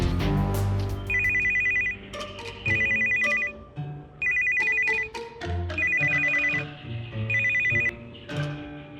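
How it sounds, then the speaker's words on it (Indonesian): A telephone rings in repeated bursts of a bright, warbling electronic tone separated by short gaps. A musical backing with low rhythmic thumps plays underneath. "Aku telepon 2 kali nggak diangkat."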